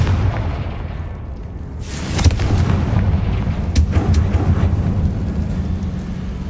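Confringo blasting spell cast in Hogwarts Legacy, heard as sharp explosive bursts over a steady low rumble, with two prominent blasts a couple of seconds apart.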